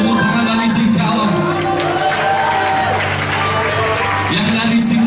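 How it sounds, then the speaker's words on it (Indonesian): A church congregation at a worship night claps and cheers steadily throughout, a loud sustained wash of crowd applause mixed with voices and music underneath. "Tepuk tangan bagi Singkawang."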